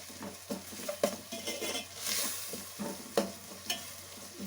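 Onions with salt are stirred and fried in a pan, with soft sizzling under repeated scraping and clinking strokes of a spoon against the pan at an uneven pace.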